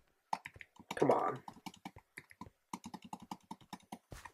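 Computer keyboard keys clatter in quick irregular bursts of clicks during gameplay, close-miked and moderately loud, with a short muffled voice-like noise partway through.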